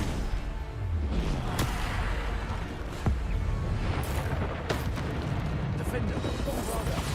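Bombarda blast spells from the Hogwarts Legacy video game go off repeatedly, sharp booming impacts landing about every second or so amid a dense, continuous wash of combat noise, with a voice talking over the action.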